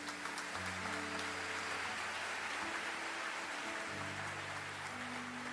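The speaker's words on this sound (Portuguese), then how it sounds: "Vamos aplaudir a palavra do Senhor." A church congregation applauds after a Catholic scripture reading: a steady, even wash of clapping from many hands that fills the room for several seconds, with sustained organ or keyboard tones underneath.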